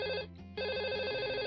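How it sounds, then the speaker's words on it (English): Telephone ringing with an electronic trilling tone, one burst, a brief pause, then a second sustained burst, fairly loud and close. "The phone's ringing off the hook."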